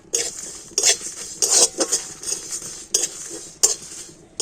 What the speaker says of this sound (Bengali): মশলাগুলোকে একটু হালকা করে ভেজে নেব